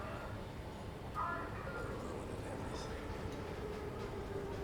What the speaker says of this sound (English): Oh, it's just the train, I think.